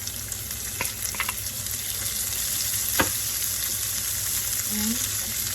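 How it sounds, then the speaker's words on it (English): Pistachios, almonds and dry dates sauté in a hot pan for sheer khurma, giving a loud, steady sizzle with a few scattered clinks of a spoon against the pan. "Saute them until they change their color into nice golden"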